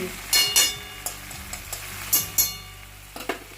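Ghee poured into a finished potato and pointed gourd curry in a pan, sizzling steadily with sharp clattering stirs and scrapes of a spoon at irregular intervals, close and clear.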